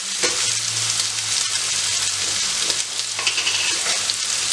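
Ingredients for Marai Pirattel, a meat dish, sauté in a hot pan with a loud, continuous sizzle. Stirring and scraping run throughout at close range.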